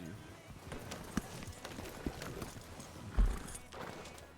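Horse hooves clip-clop at a walking pace in a Red Dead roleplay game, faint and irregular, with a few sharper hoof thuds and low background noise.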